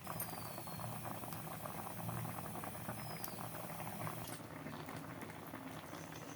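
Pithe dumplings simmer in milk, a steady dense bubbling and popping close by that carries on unbroken and alone, easing slightly toward the end.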